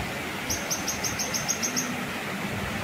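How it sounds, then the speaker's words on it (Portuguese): Quick repeated high chirps from a bird at a countryside farm near a waterfall, about ten in a row, over a steady outdoor hiss. "Acordar assim ao som dos pássaros."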